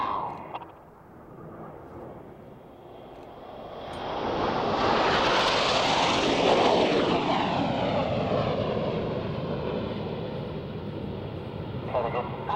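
Red Arrows jets in a flying display at Waddington: a distant rumble that swells into a loud roaring pass and then fades slowly as the formation moves away.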